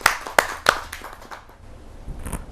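A few sharp hand claps from an audience at a Hindi poetry gathering welcome poet Chandrakanta Siwal, three distinct claps close together, then thinning into faint scattered taps and room noise.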